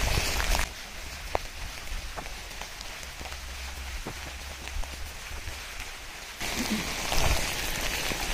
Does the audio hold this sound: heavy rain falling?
yes